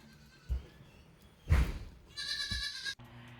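A goat mother and her newborn kid in a farm birthing pen. Several short bleats come close together, one louder and more drawn out than the rest, over quiet background, with no talking.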